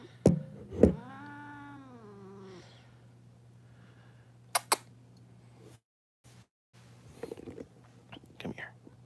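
A grumpy cat lets out a drawn-out, wavering meow near the start, followed by quieter shuffling and a couple of sharp clicks over a steady background hum.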